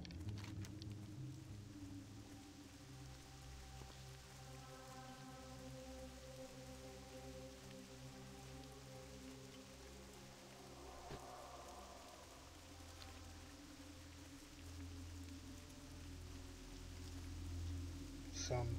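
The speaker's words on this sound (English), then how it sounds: "Raining." Rain in World of Warcraft Classic patters softly and continuously beneath low droning game music, faint and even throughout.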